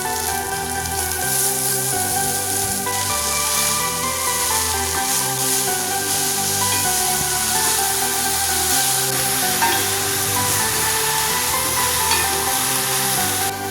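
Spinach frying with shallots and dried red chili in a pan makes a loud, continuous sizzle that holds steady throughout, with a tonal hum running underneath.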